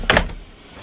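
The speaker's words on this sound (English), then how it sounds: "let's close the door." A door swinging shut with a brief, fairly close thud and short rattle, followed by quiet room tone.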